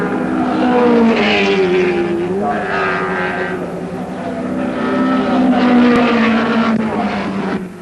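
Porsche race cars, including the John Wyer Porsche, race in the rain at Brands Hatch. Their engines howl and waver in pitch as they pass, loud and sustained, with shifting tones and no break in the racing noise.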